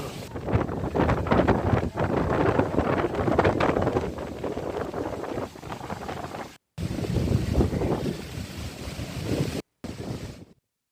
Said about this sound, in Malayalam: ചാവക്കാട് കടൽക്ഷോഭം രൂക്ഷം.